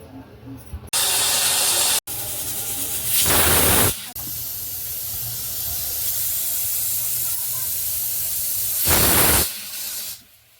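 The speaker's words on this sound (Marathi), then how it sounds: "कुकरच्या आपल्या तीन शिट्ट्या झालेल्या आहेत" A pressure cooker boiling peanuts with turmeric lets off loud hissing steam bursts, several strong blasts separated by a quieter continuous hiss, heard up close.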